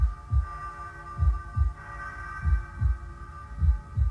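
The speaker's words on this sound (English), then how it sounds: "That heartbeat sound there is really creepy." A slow, deep heartbeat thumps in steady double pulses beneath a sustained, droning musical hum in a song, with no voices.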